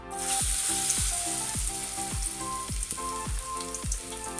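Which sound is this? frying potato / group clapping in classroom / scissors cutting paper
frying potato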